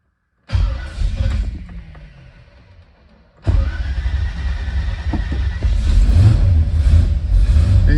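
A classic car's engine cranks and catches, then settles into a steady, loud idle, close to the microphone, with the running note growing slightly fuller toward the end.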